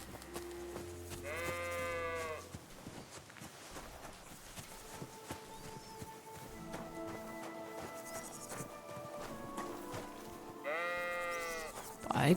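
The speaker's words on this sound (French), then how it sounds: "Oh, le mouton! Retourne dans ton enclos, toi!" Sheep in Kingdom Come: Deliverance II give two loud, wavering bleats, one near the start and one near the end, over a soft musical background with faint clip-clop.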